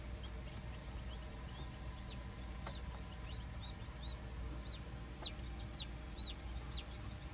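Newly hatched chicks in an incubator give repeated high, thin peeps, several scattered short calls over a steady low hum, fairly close and with no talking.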